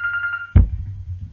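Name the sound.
telephone ringing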